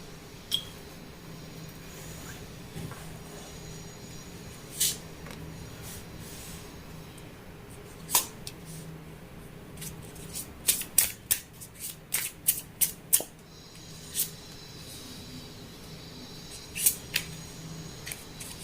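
Tarot cards riffled and shuffled by hand, a run of crisp, quick snaps and flutters that cluster into a burst midway, over a steady low background hum, with no talking.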